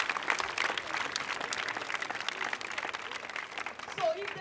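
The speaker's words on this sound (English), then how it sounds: "They deserve another round of applause." Applause from an audience of students, a moderately loud wash of clapping that holds steady, with some crowd noise and a voice faintly underneath.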